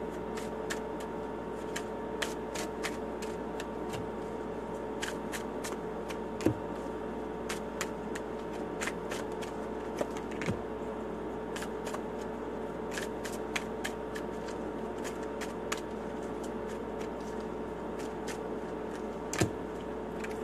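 Tarot cards shuffled by hand give sparse, soft, irregular flicks and ticks over a steady quiet hum, close and faint with no talking.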